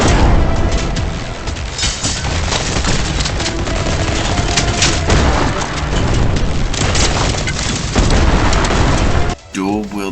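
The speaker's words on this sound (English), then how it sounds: "The explosion from the shock grenade can also be used to launch yourself into the air" Loud, continuous explosive blasts and booming impacts from a shock grenade in the fast-paced shooter Turbo Overkill, layered with dense combat noise and ending in a brief drop-off.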